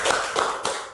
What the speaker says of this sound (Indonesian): Oke, tepuk tangan dong semua.